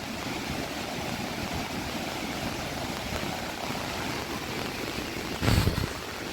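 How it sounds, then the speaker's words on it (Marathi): Waterfall water flows nearby on a trail near Dajipur, a steady broad rushing roar that holds constant throughout, with a brief louder thump near the end. "आणि साईडने हे धबधब्याचं पाणी वाहत आहे."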